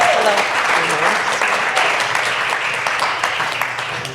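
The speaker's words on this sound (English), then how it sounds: "we want to give them a big round of applause for their elections" An audience gives a big round of applause for newly elected mayors, a dense, loud wash of clapping from a large crowd that tapers slightly over a few seconds.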